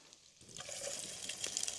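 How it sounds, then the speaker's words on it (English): Bacon sizzles in a pan over a campfire in the forest, a faint crackling hiss that swells after a quiet start, with scattered pops and spits. "There's nothing quite like the smell of bacon cooking in the forest"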